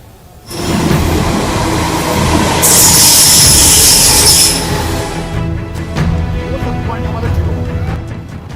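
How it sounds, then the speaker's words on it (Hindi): A Patna Metro train runs past with a loud rolling rumble, and a high wheel squeal rises midway before the noise fades into a lower steady rumble. "और अभी आपने पटना मेट्रो की पहली झलक देखी।"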